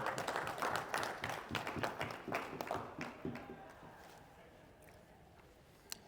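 Applause from a convention audience, loud at first and then thinning out, with scattered claps trailing off into a quiet room.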